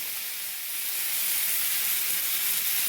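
Hot oil in a wok sizzling as neem leaves are added, a steady bright hiss that swells slightly after the first second and stays close and even, with no voices.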